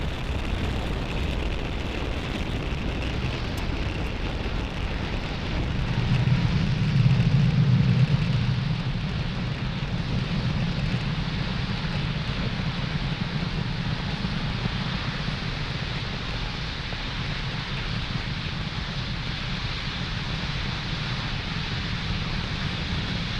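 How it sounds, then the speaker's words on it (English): A SpaceX Falcon 9 rocket lifts off carrying Globalstar satellites, a broad, continuous rumbling roar heard from a distance, swelling briefly and then holding steady without voices. "Falcon 9 has successfully lifted off with Globalstar FM15 satellites"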